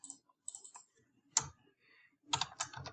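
Short bursts of keystrokes on a computer keyboard, close and crisp, with gaps of near silence between clusters of taps; no speech.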